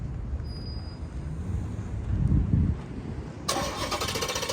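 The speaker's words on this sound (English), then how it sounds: "Let's start the car up." A Dodge Charger engine cranks and catches, then settles into a rumbling idle with a burst of higher, rough engine noise near the end.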